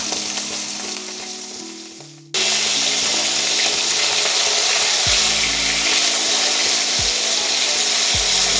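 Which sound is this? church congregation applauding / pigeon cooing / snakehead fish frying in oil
snakehead fish frying in oil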